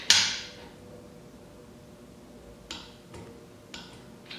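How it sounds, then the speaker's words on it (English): A torque wrench tightening a bolt to 10 foot-pounds on an engine job gives a few sharp clicks, one loud at the start and three fainter ones near the end, with quiet room tone between them. "So I'm gonna use my torque wrench, let's say 10 foot-pounds."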